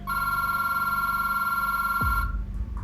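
A telephone in a doctor's office rings with a loud, steady electronic bell tone that cuts off after about two seconds, followed by a low rumble of handling.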